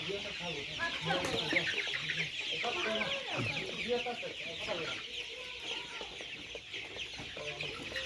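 Colored broiler chickens about 31 days old cluck steadily on a farm, with many birds overlapping in a dense, continuous chorus and an occasional louder call rising above it.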